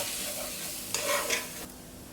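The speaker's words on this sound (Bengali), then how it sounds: "ময়দাটাকে একটু ভালো করে ভাজতে হবে।" Flour and onions fry together in a pan while being stirred, a soft sizzle with a brief scrape of the spoon near the middle, quiet and close, with no talking.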